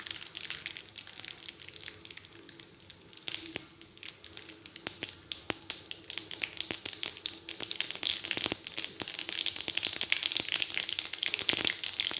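Water splashes into hot oil where mustard seeds are crackling while shengole cooks, raising a loud, steady, close hiss and sizzle with sharp crackles throughout and no speech.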